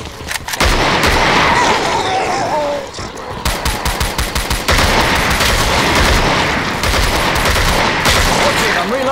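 Dense, continuous automatic gunfire from a Killing Floor multiplayer match on the Abusement Park map, with rapid bursts and volleys overlapping almost without pause, loud and close throughout.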